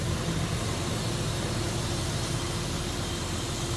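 A 4-liter V6 in a 1999 Ford Explorer Eddie Bauer idles steadily, a close, even engine drone with no voices.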